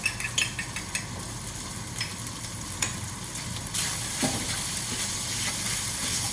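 Beef with black bean sauce, hoisin and chili stir-fries in a hot pan: a loud, steady sizzle punctuated by repeated sharp metal spatula clanks and scrapes, with no talking.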